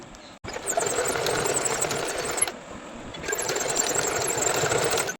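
A sewing machine runs in steady bursts while stitching the seat pieces of a pair of trousers together with a double seam, starting abruptly, pausing briefly midway, then resuming at a steady buzzing pace.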